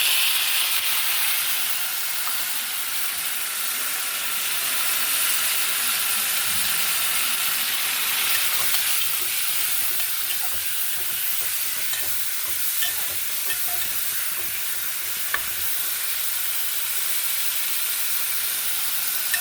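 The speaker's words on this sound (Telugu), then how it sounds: "ఇప్పుడు కొత్తిమీర టమాటాలు వేద్దామండి." Tomatoes and coriander fry in a pan for a foxtail millet upma, giving a steady close sizzle and hiss broken by occasional scraping stirs, with no voices.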